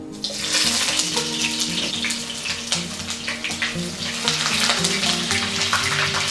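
Half a small chopped onion frying in oil in a pan for ridge gourd curry, a loud, steady, dense sizzle with crackling throughout, close up and with no talk.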